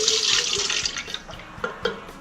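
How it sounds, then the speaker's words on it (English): Water gushes from an outdoor spigot at a roadside stop, a steady, fairly strong splashing stream with a few sharper splatter bursts, close to the microphone. "There's a fair bit of water coming out of there."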